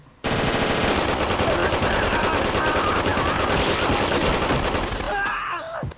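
Gunfire from The Boondocks animated episode erupts abruptly into a loud, sustained burst of rapid automatic shots that fades out near the end, with a voice faintly underneath.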